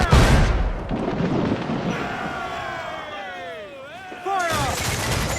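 Ship cannons firing in Assassin's Creed 4 Black Flag, heard as a heavy, close opening boom, then rumbling naval battle with whistling, sweeping tones and another loud blast near the end, with shouting voices.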